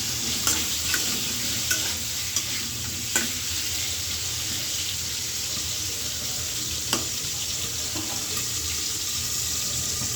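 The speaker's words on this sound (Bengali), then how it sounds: "এই যে বল মাছগুলো ভাইজা নিই, আর এদিকে আলুগুলোও ভাইজা নিই" Boal fish pieces and potato frying in oil in a pan, making a steady low sizzle with a few scattered clinks and taps, no talking.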